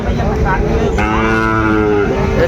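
Bull calves moo loudly nearby at a cattle market, one long sustained low call following a shorter one, over a busy, noisy background.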